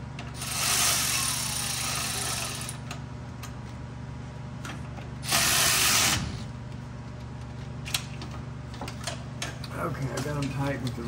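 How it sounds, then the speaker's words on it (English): Electric ratchet driving engine mount bolts on a 2007 Chevrolet Silverado 5.3 L 4x4, heard as two loud whirring bursts of a couple of seconds each over a steady low hum, followed by lighter clicking. "I got them tight with the ratchet, with the electric ratchet"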